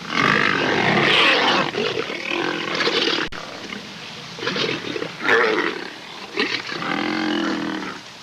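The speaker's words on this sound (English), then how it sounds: "Amid all the spitting and snarling that always accompanies male rivalry at a kill" Male lions snarl, spit and roar in rivalry over a kill on the plains, a lioness nearby; loud, close growls and throaty roars come in overlapping bursts throughout.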